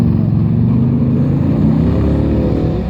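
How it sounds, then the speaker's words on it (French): A restored 1979 Pilgrim Sumo AC Cobra replica with a 400-horsepower 289 V8 at a historic hill climb in Saâcy roars loudly and close, holding a deep, steady throbbing engine note throughout. "Pilgrim Sumo 1979, réplique AC Cobra, restauration complète avec son moteur V8 289 qui développe 400 chevaux."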